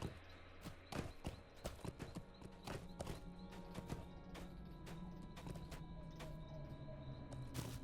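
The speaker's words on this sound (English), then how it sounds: "And I'm on a horse." Horse hooves clip-clop in the Lord of the Rings Online video game, a steady run of sharp, close hoofbeats over several seconds with a faint ambient background.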